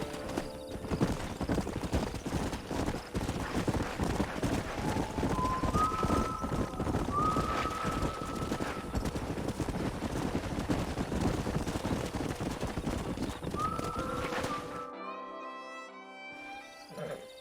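Horses in the video game Red Dead Redemption, their hooves clip-clopping steadily in a dense outdoor game soundscape, with a neigh or whinny rising now and then before the clip falls to a quieter passage at the end.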